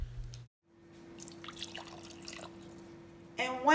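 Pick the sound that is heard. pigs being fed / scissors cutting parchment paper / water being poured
water being poured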